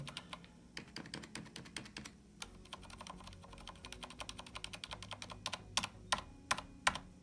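Rapid clicking of keys on a computer keyboard, a steady stream of quiet keystrokes with a few louder taps near the end.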